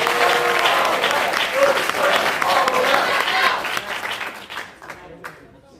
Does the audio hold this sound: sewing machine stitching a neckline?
no